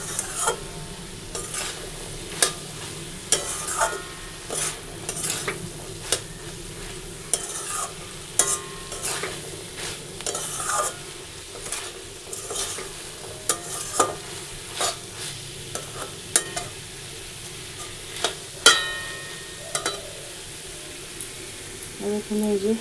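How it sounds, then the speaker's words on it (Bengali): Chickpeas frying in a pan while being stirred: steady sizzle with frequent sharp scraping and clinking strokes of the utensil against the pan, close and continuous. "হয়ে গেল আমার ছোলা ভাজা।"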